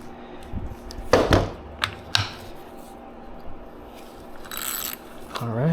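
Deep socket wrench working a nut loose on a vintage Homelite chainsaw, giving a few sharp metallic clicks and ratcheting bursts with short pauses between, close and fairly quiet.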